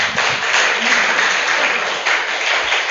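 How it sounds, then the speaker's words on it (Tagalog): Congregation applauding during a church service: a dense, steady wash of many hands clapping at once, loud and sustained throughout, with no break. "Palakpak muli sa ating Panginoon."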